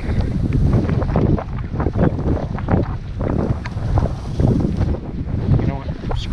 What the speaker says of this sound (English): It's a little windy out here, folks.